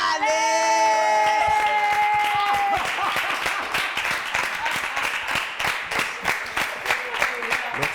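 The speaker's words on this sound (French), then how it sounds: "je continue d'applaudir" Audience applause at a live event, a dense wash of clapping that swells after sustained tones and music fade in the first seconds, then continues steadily with scattered whoops.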